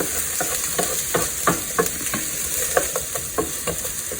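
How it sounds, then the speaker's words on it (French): Onions sautéing in a pan for Québec pâté chinois give a steady sizzle, broken by regular scraping and tapping strokes of a utensil stirring them up close, with no talking. "Ok, donc je vais faire revenir mes oignons"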